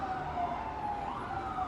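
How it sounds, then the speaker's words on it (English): A faint emergency siren wails in a New York City street, a thin steady tone drifting slightly in pitch, distant and low over muffled ambient noise. "You hear the sirens and all that."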